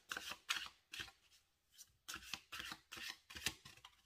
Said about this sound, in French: On va tirer une dernière carte.